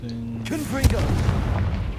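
A Confringo fire spell blast from Hogwarts Legacy, a sharp booming burst followed by a rumbling roar, with a voice speaking just before and around it.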